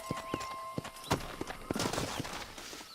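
A horse gallops in Red Dead Redemption 2, with close hoofbeats clip-clopping in an uneven rhythm, a faint whinny and bits of game sound in the background.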